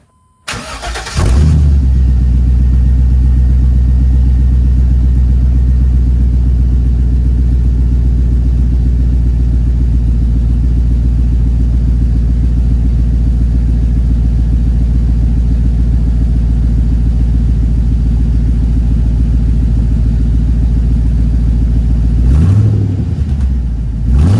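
An OBS crew cab truck fitted with turbo mufflers cranks and fires, then settles into a loud, deep, steady rumble for about twenty seconds before shutting off near the end.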